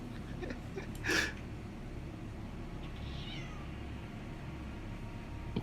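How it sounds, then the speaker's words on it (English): A cat gives a single short meow near the start, loud and close, then quiet room noise with a faint chirp-like sound follows. "Cat's meowing."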